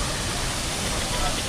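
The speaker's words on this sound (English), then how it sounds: "Oh, there's another waterfall." A waterfall at Discovery Cove in Orlando rushes in a steady, broad hiss that fills the whole stretch at moderate level, with no break or change.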